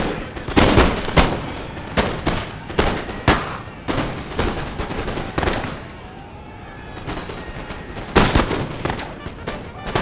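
Guard infantry firing muskets from within trees in a video game battle: repeated sharp, loud volleys and scattered shots in irregular bursts, with a quieter lull midway before more firing.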